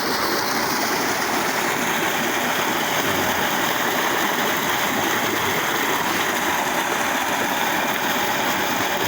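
A strong stream of water flows fast beside farm fields, a steady, full rushing wash that stays constant and close from start to finish.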